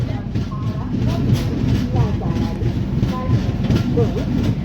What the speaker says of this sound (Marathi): कणकवली रेल्वे स्टेशनवर आपली गाडी जी आहे ती पोहोचलेली आहे